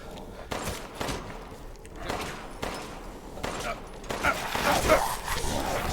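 Gunfire in the video game Resident Evil 8 comes as a series of sharp, evenly spaced shots, about six bursts over a few seconds, with a rougher noisy stretch near the end.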